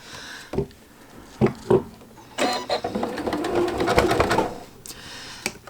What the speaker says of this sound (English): Right now we're going to be zigzagging, so your needle is going to be off to one side or the other